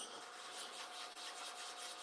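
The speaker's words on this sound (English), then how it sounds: "I'm sanding in reverse at about 540 RPMs." Sandpaper on a turned slimline pen spinning in reverse on a lathe at about 540 RPM makes a continuous, even rasping hiss with a slight pulsing texture, close and alone.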